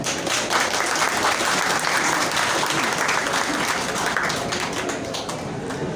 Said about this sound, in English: please welcome with a resounding applause